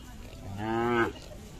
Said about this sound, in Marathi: पाहू शकता अशा प्रकारच्या मोठ्या प्रमाणात गायी आलेल्या आहेत.